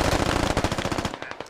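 Rapid automatic gunfire in a 100-player military simulation squad PvP game: a loud, continuous machine-gun burst of tightly spaced shots that cuts off abruptly near the end.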